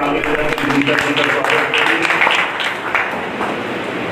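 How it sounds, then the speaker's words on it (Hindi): Crowd clapping at a political rally honouring Maharaja Khet Singh Khangar, a steady wash of applause mixed with a raised voice and crowd murmur, loud and continuous. "जोरदार ताली बजा के"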